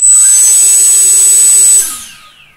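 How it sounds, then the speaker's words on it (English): Brushless motor on a Pixhawk-controlled hexacopter spinning on the bench during a low-throttle motor test, a loud steady high whine that holds for nearly two seconds, then cuts off and winds down to silence. "Now again, test motor A."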